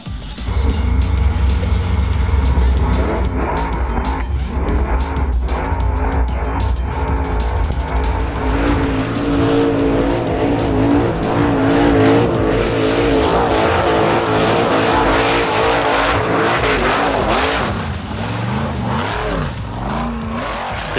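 Formula Offroad race cars tearing through a boggy mud course in Iceland, engines roaring and revving hard with wheels spinning and skidding, loud and close throughout, the sound easing slightly near the end.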